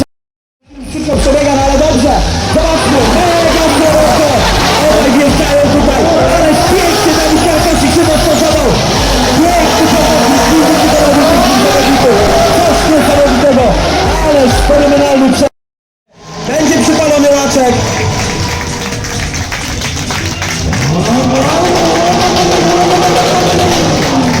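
Drift cars roar and rev continuously while sliding at the first Polish mountain drifting championship in Kłodzko, 2016, with loud sustained engine noise that briefly cuts out partway through and an announcer's commentary running over it.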